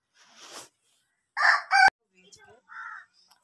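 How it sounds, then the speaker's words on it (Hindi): Chickens cluck and a rooster crows nearby in a few short, separated bursts, with brief pauses of quiet between them. "वो मुर्गियाँ"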